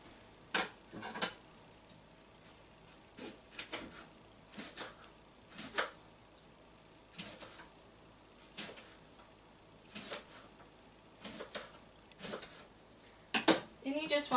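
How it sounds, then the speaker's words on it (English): A knife chops rhubarb stalks on a cutting board in a home kitchen, giving sharp, spaced-out taps at an uneven rhythm, fairly close and moderately quiet, with a few quicker clusters of cuts. "So I'm going to go ahead and chop up my rhubarb."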